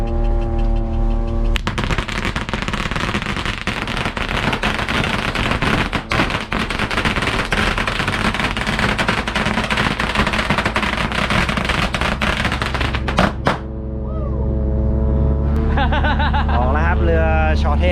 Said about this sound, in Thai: จุดประทัด